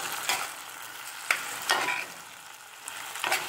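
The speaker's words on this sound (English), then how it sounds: "Everything I fry at once." Breakfast food fries together in a pan, heard as a quiet sizzle broken by a few short stirring scrapes spaced about a second apart.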